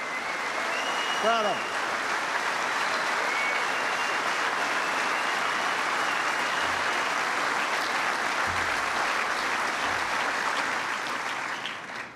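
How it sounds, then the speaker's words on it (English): Sustained audience applause at a presidential speech in Golden Valley, Minnesota, saluting Honeywell's veterans; a dense, steady wash of clapping runs loud throughout, with a brief remark spoken over it and whistles or cheers early on. "So give them a big round of applause."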